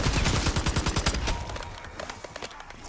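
Rapid bursts of gunfire from Call of Duty zombies on the Liberty Falls map, loud, close and sharply repeated at first, then thinning into scattered, quieter shots.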